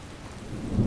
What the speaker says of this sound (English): we have some thunder and lightning, which is cool. It's nice to have realistic weather.